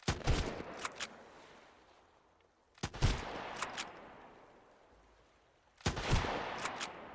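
Video-game gunfire in Sunkenland, three separate bursts of shots about three seconds apart, each a loud cluster of sharp cracks trailing off into quieter echoing pops, with near silence between bursts.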